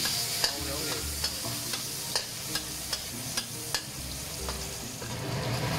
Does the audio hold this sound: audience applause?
no